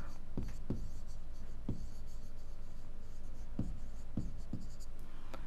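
Chalk or marker writing on a classroom board: a run of sharp tapping strokes in irregular rhythm over a steady background hum, close and clear.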